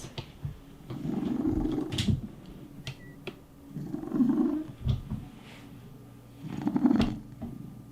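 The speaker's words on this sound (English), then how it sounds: "That would be my cat sleeping on my bath mat" A cat sleeping on a bath mat purrs in three slow, rumbling swells, each lasting a couple of seconds and separated by quieter pauses, close and soft with a few faint clicks in between.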